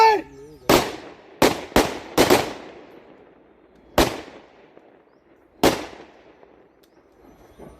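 Volleys of rifle fire ring out in a gunfire salute at a state-honors funeral for a fallen serviceman, sharp loud cracks in a quick cluster of four followed by two spaced single shots, each trailing into echo, with no talk in between.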